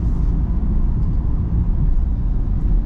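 Low, steady exhaust burble from the rear of a 2021 Hyundai Staria van, heard from inside the cabin as a constant loud rumble with no voices.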